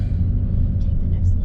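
A car drives along a road on Kefalonia, its low engine rumble and road noise steady and close throughout, with faint higher sounds briefly above.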